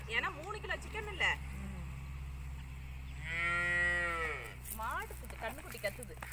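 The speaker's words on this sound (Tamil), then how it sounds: "மாடுக்கு கண்ணுக்குட்டி கத்துது. மாடுக்குட்டி கத்துது." A calf moos loudly once in a long drawn-out call midway, with shorter faint animal calls and people talking nearby before and after, over a steady low hum.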